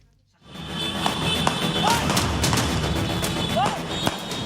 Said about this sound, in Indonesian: Kedua kelompok saling berhadapan melempar petasan yang tak jarang meledak tak terkendali.